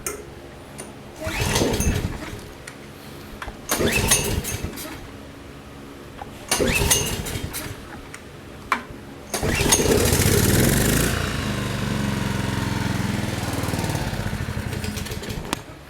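A trash-picked Generac Briggs & Stratton 4000XL generator is pulled several times in short cranking bursts, then catches and runs loud and steady, its engine note settling slightly as it idles on.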